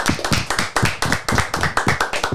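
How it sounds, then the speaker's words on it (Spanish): An audience gives an ovation with loud, rhythmic clapping in unison, about four sharp claps per second, steady and close, with no talk over it. "vamos a recibir con una ovación, yo diría, no solo un aplauso"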